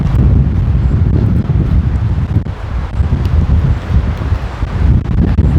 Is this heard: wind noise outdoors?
yes